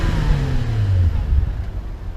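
A Toyota Mark X, tuned, with its exhaust running loud and close in a steady low rumble that swells slightly, as if revving gently, with no talking.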